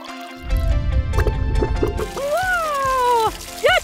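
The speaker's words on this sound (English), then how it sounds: "Final step is to pour the vinegar into the volcano and have fun." Red-tinted vinegar is poured into a baking soda volcano, giving a brief splashy pour and bubbling fizz, followed by gliding whistle-like tones near the end.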